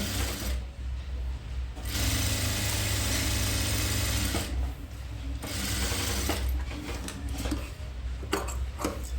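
Sewing machine stitching a dress lining, several steady mechanical runs of rapid needle chatter separated by short pauses, close and fairly loud.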